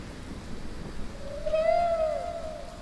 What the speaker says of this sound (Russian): Какая-то странная кошка.